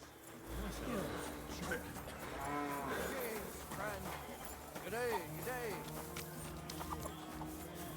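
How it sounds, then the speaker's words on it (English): A cow moos on a road in the medieval open-world game Kingdom Come: Deliverance II. Several drawn-out lowing calls stand out over steady background ambience, with people talking at the same time. "What the fuck is cow doing here in the middle of the road?"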